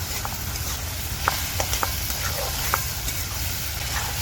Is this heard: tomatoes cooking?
yes